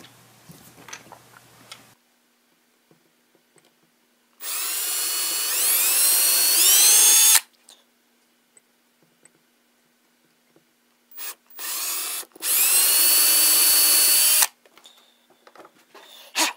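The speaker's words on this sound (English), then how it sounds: "I'll drill a tiny pilot hole, then get a screw in there." A power drill whirs in two bursts drilling a tiny pilot hole for a screw, spinning up to a high whine for a few seconds each time, with quiet gaps and small clicks between.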